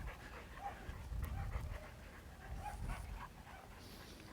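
A dog pants steadily and lets out a few soft whimpers during a puppy training session, close by and fairly quiet, with faint scuffling.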